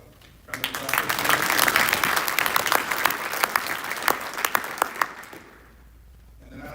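At a school academic night and spring concert, an audience gives a round of applause during an awards presentation. The clapping is dense and loud for about five seconds, then stops abruptly, leaving a quiet room.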